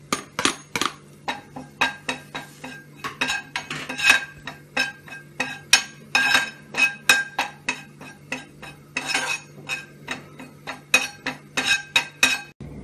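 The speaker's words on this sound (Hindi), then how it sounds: "पहले कसूरी मेथी भून लेती हूँ थोड़ा सा।" A spatula knocks and scrapes against a metal pan on a gas stove while dried fenugreek leaves (kasuri methi) are dry-roasted, giving a rapid, uneven series of sharp, close metallic clinks for about thirteen seconds.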